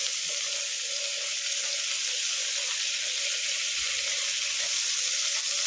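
Boiled sweet corn sizzles in melted butter in a pan, a loud, steady, bright hiss that carries unbroken and close throughout.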